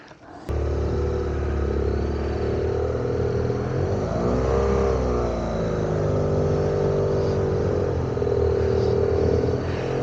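A motorcycle pulls away up a very steep hill with the clutch slipping, its engine held at a steady drone that swells and sags slightly as it strains. The engine sounds loud and continuous from start to finish, with no talk.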